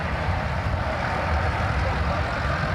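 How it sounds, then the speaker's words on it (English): A WZ pulling tractor driven by Jason Mont roars at a tractor pull outside the Mont Alto fire station, a loud, steady engine drone with heavy low rumble and windy broadband noise throughout. "He's driving a tractor called WZ."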